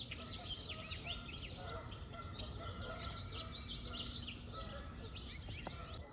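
Birds at a bird sanctuary by the visitor center of Starved Rock State Park: many overlapping chirps and calls, with occasional honk-like fowl notes, over a steady outdoor background hum.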